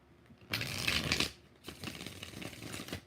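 Tarot cards being shuffled by hand in two loud, close bursts, a long riffle followed by a second one after a short pause, with no voice.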